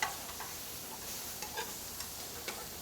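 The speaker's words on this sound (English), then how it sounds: "So right now we're cooking the fennel." Fennel and shrimp sizzle in a pan, a steady, close hiss of frying with a few light taps and stirring clicks, no voices.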